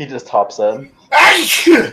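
A loud, close sneeze bursts out right after a few spoken words, a sharp explosive blast that trails off.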